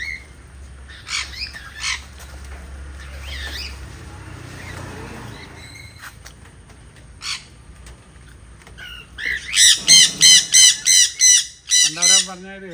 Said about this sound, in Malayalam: റസാക്കിൻ്റെ പേരത്തെ കിളികൾക്ക് നല്ല സുഖമാണ്